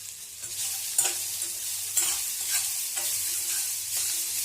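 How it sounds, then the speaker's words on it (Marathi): Ginger and garlic sauté in oil in a pan for misal, a continuous close frying sizzle broken by regular spatula strokes scraping and stirring roughly once a second. "आता याच्यामध्ये अद्रक लसूण टाकून घेऊ। हे पण परतून घेऊ चांगलं।"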